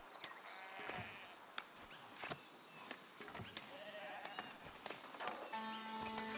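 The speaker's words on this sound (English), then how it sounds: "Hey, look at my sheep." Sheep bleat in the farming game Foundation, several short calls scattered over steady game ambience with occasional clicks and a sustained tone near the end.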